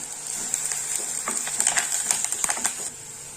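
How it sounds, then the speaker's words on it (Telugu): Onions with curry leaves frying in a pan for mutton masala curry, a steady close sizzle with quick stirring clicks and taps of a spoon against the pan. "ఇదిగోండి ఆనియన్స్ వేగుతున్నాయి కదా"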